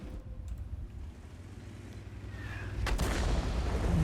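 Tank cannon fire in World of Tanks, one heavy booming shot about three seconds in that rolls into a loud sustained rumble, after a quieter stretch of engine hum and faint mechanical noise.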